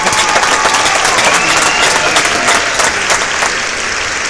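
A crowd at a musicians' contest keeps up loud, continuous clapping for guitarist Japhet. It is thick and even throughout, then eases slightly near the end, with no voices on top.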